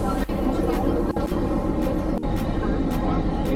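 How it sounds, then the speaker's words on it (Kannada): Ooty mountain train running in reverse gear near Coonoor, a steady close rumble of wheels and carriage noise throughout, with sharp brief clacks from the track joints. "ಈ ಟ್ರೈನ್ ಫುಲ್ಲು ರಿವರ್ಸ್ ಗೇರಲ್ಲಿ ಓಡಿಸ್ತಾ ಇರೋದು"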